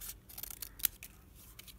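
Scissors snip through craft paper while cutting a chevron shape, giving a few quiet, crisp cuts in quick succession with a brief sharper snip near the middle.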